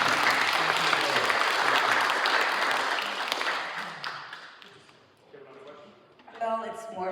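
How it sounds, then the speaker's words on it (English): An audience at a Metro Council President candidate forum gives the candidates a round of applause: dense, steady clapping fills the room for several seconds, then thins and fades, and a voice begins speaking near the end. "Please give our candidates a round of applause."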